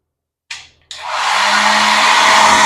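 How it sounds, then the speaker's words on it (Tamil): A hair dryer in a hotel room switches on with a brief burst, cuts out, then starts again and runs as a loud, steady whir with a low hum underneath, close by. "ஹேர் ட்ரையர் இருக்குது."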